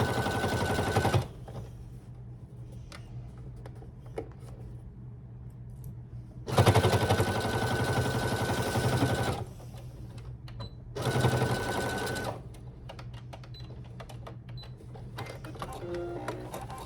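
A sewing machine stitches a summer tote bag in three separate runs, each a loud, steady mechanical whir lasting a second or more, with quiet handling clicks in the pauses between.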